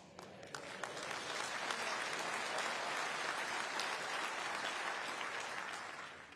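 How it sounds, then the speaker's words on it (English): Conference audience at a Conservative party gathering in Birmingham breaks into sustained applause, a dense wash of clapping that swells quickly and holds steady before tapering off near the end. "I thought you might applaud that bit."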